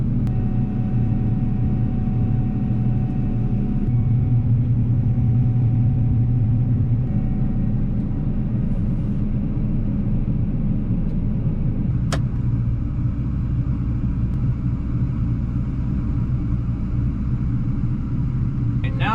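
A combine harvester drones steadily through a canola field, a loud, continuous low engine rumble heard from inside the cab with little change, and a single sharp click partway through.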